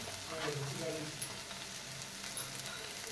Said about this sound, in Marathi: तेलात भाजून घेऊ दोन तीन मिनिट हा मसाला